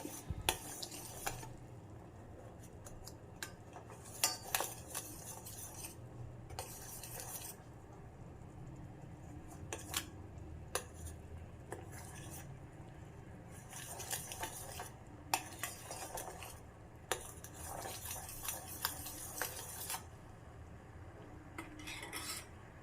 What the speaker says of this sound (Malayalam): ഒന്നിളക്കി കൊടുക്കാം അതിലെ കട്ടകളൊക്കെ പോട്ടെ